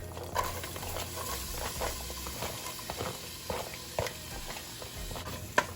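Onions frying in leftover Italian sausage oil in a soup pot give a steady, soft sizzle and patter with faint stirring scrapes, no talking over it.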